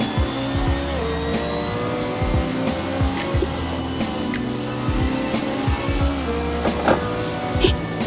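BMW M3 GT2 race car in Assetto Corsa on the Nordschleife, engine droning loudly with downshift blips and tire noise as it brakes in a straight line, steady and close throughout.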